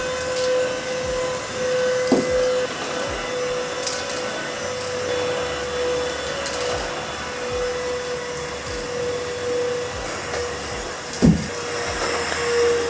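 A vacuum cleaner runs indoors in a new apartment, a steady whining hum with occasional knocks and bumps as it moves, and no voices.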